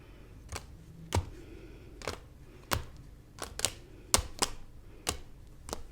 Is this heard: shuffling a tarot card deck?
yes